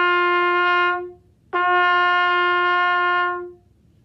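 A trumpet plays two long, steady, sustained notes of the same pitch, each lasting about two beats, separated by a short gap; close, clean and solo, with no talking.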